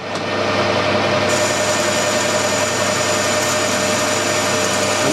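A lathe cuts an internal taper in an aluminium bar lubricated with WD-40, giving a steady, loud mechanical hum and whir that carries on unbroken from start to finish.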